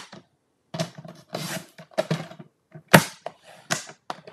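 Cardboard for a Valentine box is cut with a paper cutter or scissors, heard as a run of sharp, close snips and crunches in irregular short bursts separated by brief silences.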